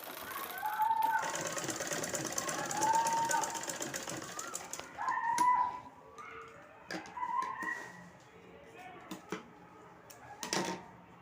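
A sewing machine runs in stretches while stitching the side seams of a baby frock, its fast mechanical whir starting and stopping, with someone talking over it.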